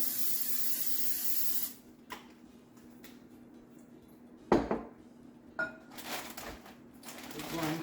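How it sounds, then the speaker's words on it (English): A short hissing burst of cooking spray into a baking dish at the start, followed by clinks and knocks of the dish and utensils being handled nearby. "spray the inside of our baking dish with some cooking spray"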